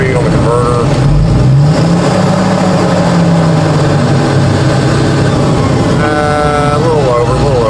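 A heavy diesel engine on construction equipment roars loudly and continuously during a torque converter test, its pitch rising and falling as it revs, with talk mixed into the noise.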